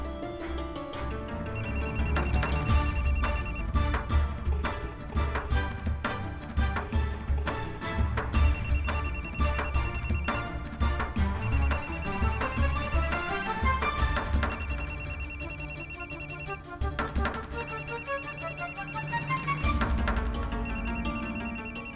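A telephone rings again and again from a repeated call in a dramatic TV serial scene, its steady electronic ringtone pulses repeating over layered background music, loud and with no talking.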